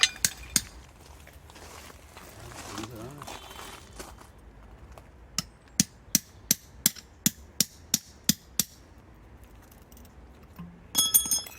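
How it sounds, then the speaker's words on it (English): Sharp metallic hammer strikes ring out as metal tubes are hammered into the ground at a farm greenhouse, a steady run of about a dozen blows, with a few scattered hits before and a clatter at the end. "they've been hammered into the ground"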